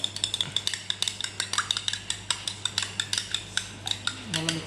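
Rapid whisking of egg into pancake batter in a bowl, a steady run of close metallic clinks from utensil against the dish, evenly paced and with no talk.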